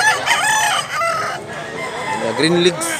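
Close, loud crowing from a Boston Roundhead rooster, with a long call at the start followed by another crow near the end, broken by brief softer sounds.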